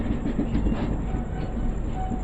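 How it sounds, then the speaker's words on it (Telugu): Train wheels on the Simhapuri Express clatter over track points as the train changes lines near Secunderabad, giving a loud, close, steady rumble with rapid clickety-clack beats throughout. "కనిపిస్తుందా మన ట్రైన్ ట్రాక్స్ చేంజ్ అవుతుంది"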